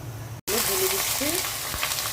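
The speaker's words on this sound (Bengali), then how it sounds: "পেঁয়াজটা আমি একটু লাল লাল করে ভেজে নেব, বেরেস্তা করে নেব।" Onions fry with garam masala spices in a hot pan for a Bengali beef biryani, a loud continuous sizzle and crackle close by after a brief cut, with faint stirring.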